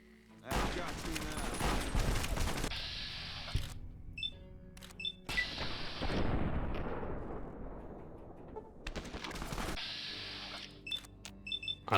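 Heavy brush gun carbine shots crack and boom in bursts during a Fallout New Vegas fight, with loud reverberating blasts, short pauses between volleys, and faint game beeps in the quieter gaps.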